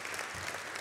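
Audience applause at a life science summit, a brief steady burst of many hands clapping together in a conference hall, dense and evenly sustained throughout.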